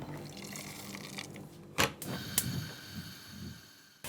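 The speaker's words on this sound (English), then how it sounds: "Then I add cold water." Cold water is poured into a pot of meat, onion, celery and carrot for a handmade pasta filling, heard as soft running water with a few louder splashing bursts and no voices.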